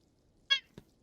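A T-Rex in the Prehistoric Kingdom video game lets out one short, bright, bird-like squawk, followed a moment later by a brief low thump, with quiet between.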